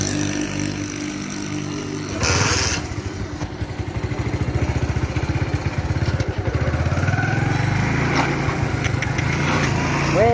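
A motorcycle starts and rides off along a village road, its engine a close, steady chugging that rises in pitch as it accelerates, with someone talking over it.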